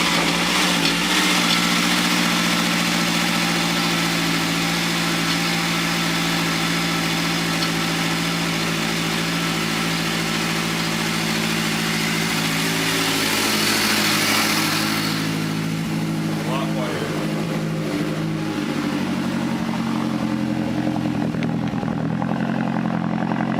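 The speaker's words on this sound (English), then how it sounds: "Cold start number 2. The new downpipe." A Mazdaspeed 3 idles after a cold start with a newly fitted Corksport downpipe, producing a loud, steady, close-up engine drone with a raspy exhaust note. The pitch drops and settles as the idle eases down late on, with no talking.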